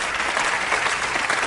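A comedy club crowd gives a brief, dense round of applause, steady and close throughout.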